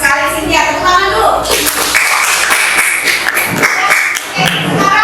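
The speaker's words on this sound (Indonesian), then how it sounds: "Tepuk tangan dulu" A classroom of students applauds a classmate, a dense burst of clapping that starts after a second and a half and keeps going steadily, with children's voices mixed in.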